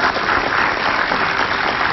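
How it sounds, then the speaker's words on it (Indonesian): A studio audience on a television talk show claps loudly and steadily, a dense, continuous wash of applause with no talk over it. "Jadi kita kasih tepuk tangan dulu sekali lagi buat Kaila yang hebat"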